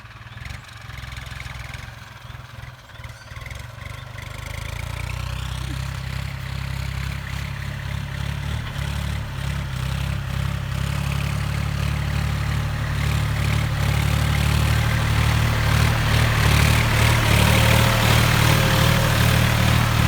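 A New Holland T3.55 tractor's three-cylinder diesel engine, about 900 hours old, runs nearby in a steady low rumble that grows louder and rougher toward the end, with no talking.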